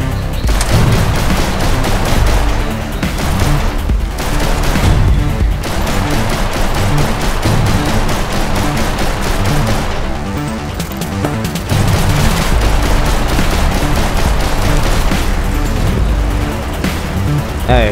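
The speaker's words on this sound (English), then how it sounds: "I pressed the shooting button." Rapid video game gunfire from a shooter titled Hot guns, bursts and booms running loud and continuous throughout, with a voice talking over parts of it.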